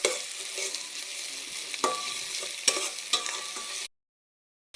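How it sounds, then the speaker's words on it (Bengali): Chopped onion, garlic and bay leaves frying in oil, a steady close sizzle broken by a few sharp scrapes of stirring before it cuts off abruptly near the end. "আমি প্রথমে পেঁয়াজ, রসুন কুচি এবং তেজপাতা হালকা করে লাল করে ভেজে নিচ্ছি।"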